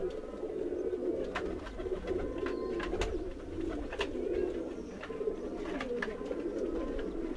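Pigeons coo on a rooftop loft, a continuous low, throaty murmuring from several birds close by, with faint clicks and rustles scattered through.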